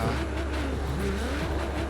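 Cars race in Forza Horizon 4, a steady engine drone with shifting whine holding at an even level throughout, no talk over it.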